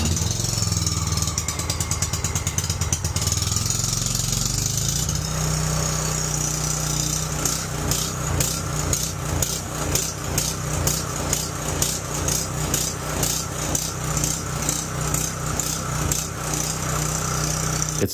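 A portable electrical generator engine is pull-started and runs on, with a loud sputtering catch giving way to a steady, pulsing engine drone that stays close and continuous throughout.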